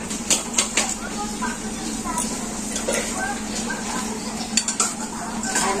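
Dishes and cutlery clink steadily as people eat a village home meal of meat curry, fish curry, lentils, fried bitter gourd and rice, with repeated light chinks of utensils on plates under a constant background of talk.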